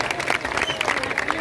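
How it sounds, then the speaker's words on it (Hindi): Crowd applause at a political rally, dense continuous clapping from many people, loud and close, with voices mixed in under it. "उनके लिए आप लोग सभी तालियां बजाएं"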